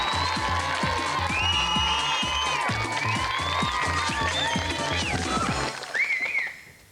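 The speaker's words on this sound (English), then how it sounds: "Give Shella a round of applause, everyone" Studio audience on a game show applauding and cheering for a contestant, a dense, sustained wash of clapping with whoops and a whistle, fading out at the end.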